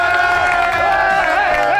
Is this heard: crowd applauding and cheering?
yes